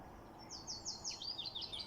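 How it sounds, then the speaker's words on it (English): Birds trill and chirp on a sunny morning beside a carp-fishing lake in Finland, a faint, distant run of quick warbling notes over soft outdoor background. "Birds are singing"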